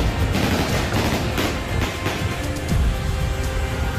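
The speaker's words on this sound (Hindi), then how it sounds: "अंधाधुंध गोलियां बरसा देते हैं।" Dense, continuous gunfire as Taliban fighters shoot bullets indiscriminately, a steady loud crackle of overlapping shots and bursts running through the whole stretch with no voices.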